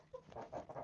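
Chickens cluck softly in a coop while they eat. The sound is a short run of close, uneven clucks and murmurs at moderate level, with no talk.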